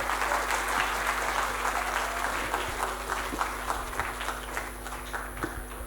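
Sustained applause from a conference audience after a lecture, dense steady clapping that slowly thins out.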